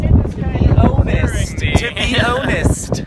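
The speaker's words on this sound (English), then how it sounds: "It's windy!" Strong wind gusts buffet a microphone outdoors, producing rumbling, uneven blasts that rise and fall while people talk and laugh over it.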